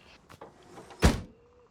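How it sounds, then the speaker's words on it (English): Helicopter doors closing in a video game: a soft sliding rumble followed by one solid thunk, short and close, with no talk. "if you press Z, it's going to close the doors"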